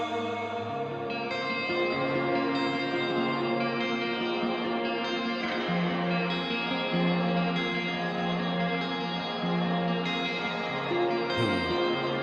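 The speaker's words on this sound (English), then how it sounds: "I like that echo." A song plays with heavy echo and reverb smearing its sustained, layered tones into a dense, continuous wash, steady and fairly loud throughout.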